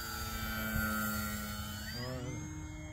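A radio-controlled FMS Maule float plane flies overhead with a steady electric whine whose pitch bends downward near the end, holding fairly loud and continuous with no talk.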